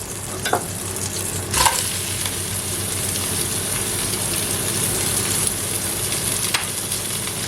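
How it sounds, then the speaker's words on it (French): Onions and peppers sizzling in leftover chicken fat in a pan for a Basque-style chicken dish, a steady loud frying hiss with a few clinks and stirring scrapes, no talking. "dans ce qui reste de gras, on va mettre les légumes."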